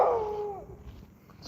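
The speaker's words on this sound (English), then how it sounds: "Sorry about the dogs outside." A dog gives a drawn-out, falling howl or whine from a distance, then fades into quiet outdoor background.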